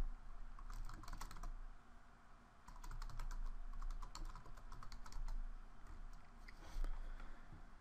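Close, rapid clatter of typing on a computer keyboard, running in busy bursts with short gaps over a low background hum, with no talking.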